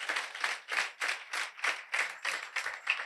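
A church congregation claps in unison, roughly nine steady, loud claps spaced about a third of a second apart, with no talking over them.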